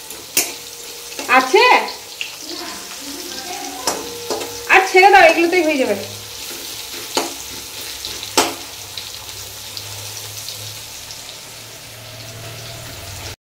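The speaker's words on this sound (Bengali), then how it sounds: "তো এইদিকে আমার ঘি করলা ভাজা অলরেডি চলছে।" Bitter gourd frying in ghee sizzles steadily in a pan, with clattering stirring bursts and a few sharp knocks; a person speaks briefly over it.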